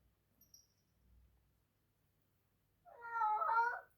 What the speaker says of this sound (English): Oh, wow, cat.